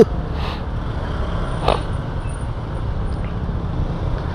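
Steady roadway traffic with trucks and buses crawling through congestion at Talaba, Zapote, Cavite, a low continuous rumble with a brief sharp hiss like an air brake partway through.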